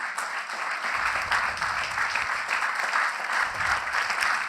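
Audience applause at an opening keynote, a dense, steady wash of clapping from a sizable crowd that holds at an even level throughout.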